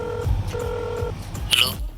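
Several keypad tones as a phone number is dialed on a mobile, steady beeps in a short sequence with background noise and a brief voice-like burst near the end.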